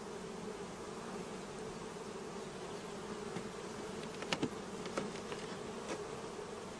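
Honeybees buzzing around the brood combs of a hive, a steady close hum with a few sharp clicks and knocks of frames, no talking.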